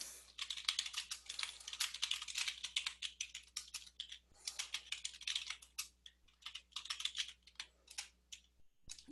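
Rapid typing on a computer keyboard, bursts of soft close key clicks in quick irregular runs with brief pauses, quiet and alone with no talking.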